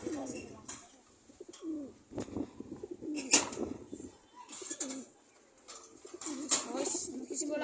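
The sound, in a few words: pigeons cooing in a loft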